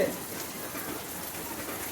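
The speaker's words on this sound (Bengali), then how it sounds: "বৃষ্টি, প্রচণ্ড বৃষ্টি, প্রচণ্ড বৃষ্টি হচ্ছে, সারাদিন বৃষ্টি, বৃষ্টি থামিচ্ছে না" Steady hiss of rain, a continuous dense wash of drops with no breaks, moderately loud and close.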